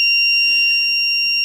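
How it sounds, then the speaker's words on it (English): A steady, high-pitched electronic beep from a multimeter continuity test on a shorted Dodge Ram 6.7L diesel PCM holds continuously at a fairly loud level. "I have a multimeter here. I'm gonna put it in a beeping."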